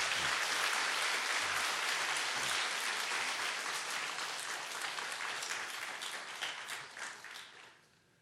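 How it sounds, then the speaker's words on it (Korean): Korean church congregation applauding to encourage a departing missionary, loud dense clapping that gradually thins and fades out over about eight seconds. "여러분 박수로 격려해 주시기 바랍니다"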